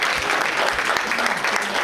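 A crowd claps steadily and loudly for a couple of seconds for a birthday, a dense wash of applause with no pauses.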